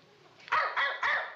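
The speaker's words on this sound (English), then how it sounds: "None of the other dogs ever barked a night until this new one moved in." A dog barking at night in a neighborhood, three sharp, loud, close barks in quick succession after a brief quiet lead-in, with no talk.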